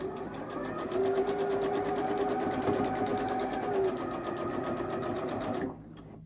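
A sewing machine stitches a quilt block seam, a fast steady mechanical whirr with even rapid ticking that runs close and alone for several seconds before stopping abruptly.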